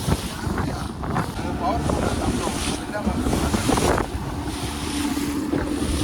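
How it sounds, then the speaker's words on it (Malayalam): A fishing boat running across the open sea on a deep-sea mackerel trip, with steady engine rumble, water rushing and waves slapping the hull, and wind buffeting the microphone throughout. "ഇതുവരെ ഓട്ടം നിന്നിട്ടില്ല വള്ളം ഓടിക്കോണ്ട് വരുവാണ് കേട്ടോ"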